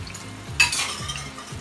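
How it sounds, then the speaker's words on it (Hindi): Onion, yogurt and ginger-garlic paste lightly frying for nargisi kofta, a soft sizzle that swells briefly at the midpoint with a faint utensil scrape, close and short. "इसको हल्का सा फ्राई करेंगे ताकि इसका कच्चापन दूर हो जाए"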